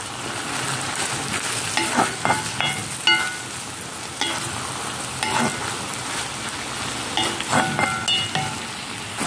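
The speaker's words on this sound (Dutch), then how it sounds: "Ja, om de zoute vis of bakkeljauw te bakken." Salted fish (bakkeljauw) fries in a pan with a steady sizzle, broken by repeated scrapes and clatters as it is stirred and turned close by. No one speaks.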